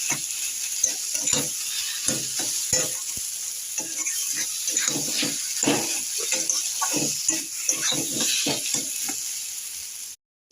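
A spiced potato mixture with turmeric, cumin and coriander frying in a pan, with a continuous sizzle and repeated scraping stirs close by, ending abruptly.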